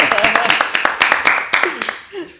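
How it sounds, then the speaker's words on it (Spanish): A burst of clapping from a small group, sharp claps scattered over a couple of seconds with cheering voices mixed in. "Un aplauso para Edu."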